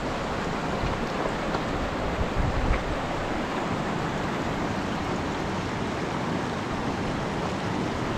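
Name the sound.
small glacial stream flowing in a river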